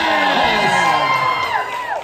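An audience at a steampunk fashion show at Wild Wild West Con 8 cheers and whoops loudly, a dense crowd roar with shrill shouts that holds steady for two seconds.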